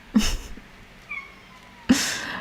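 A house cat meows twice, close by, with a softer brief sound between the two calls and no talking.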